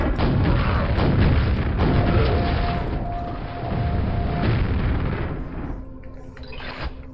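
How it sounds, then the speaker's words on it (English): Rocket launcher blasts in the shooter Quake, heavy booming explosions that roll into one another, loud and close, trailing off into quieter game sounds. "Probably shouldn't use the rocket launcher on those fish."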